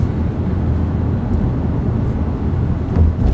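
Honda Civic Turbo ES Prestige 2017 car engine accelerating, a steady, loud low rumble with road noise that holds throughout and swells slightly near the end.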